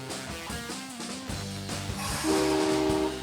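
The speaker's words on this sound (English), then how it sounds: "There's a big choo-choo train." A sustained, bright toy train horn with a steady tone, moderately loud, over a busy background of tonal toy or music sounds.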